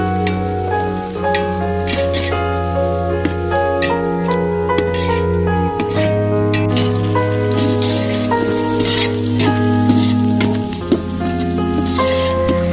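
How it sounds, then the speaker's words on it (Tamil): Chopped big onions fry in a pan of oil for a jackfruit biryani. A steady, loud sizzle and crackle runs throughout, under a sustained background music tone. "வெட்டி வச்சிருக்க பெரிய வெங்காயத்தை சேர்த்துக்கலாம்."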